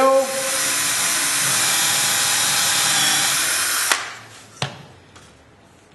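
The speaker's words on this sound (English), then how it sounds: "Drill." Power drill boring into wood for a dovetail joint, a loud steady whine for about four seconds that cuts off, followed by a couple of sharp knocks, with no talk.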